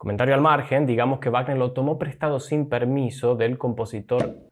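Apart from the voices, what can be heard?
No everyday noises stand out.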